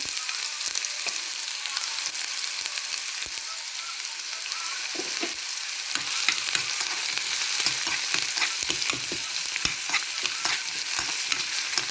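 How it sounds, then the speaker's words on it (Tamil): Chopped onions and two dried red chillies fry in coconut oil with a continuous soft sizzle, punctuated by sharp clicks and scrapes of stirring in the pan, and no one talks. "இப்போ வெங்காயத்தை போடுவேன் வெட்டி வச்ச வெங்காயத்தை அதோட ரெண்டு செத்த மிளகாயும் போடுறேன்"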